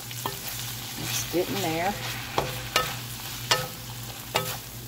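Onions frying in a pan for smothered cabbage and pork make a steady sizzle. Repeated scraping stirs come at regular intervals, and a voice speaks briefly over it.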